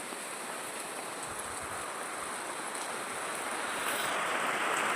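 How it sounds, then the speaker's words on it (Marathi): Steady rain pouring down, a dense hiss of drops that swells slightly louder toward the end, with no voices. "पाऊस चालू आहे बघा आमच्या इकडे"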